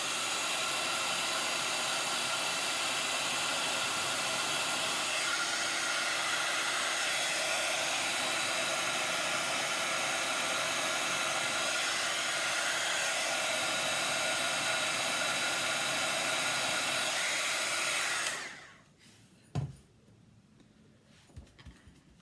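A craft heat tool blows a loud, steady whooshing roar while heating embossing on a handmade card, running continuously before switching off abruptly, with faint handling noises afterward.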